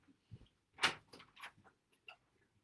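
Several knocks at a door come from a quiet room: a few irregular, soft raps with one sharper, louder hit among them, without speech.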